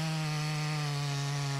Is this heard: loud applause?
no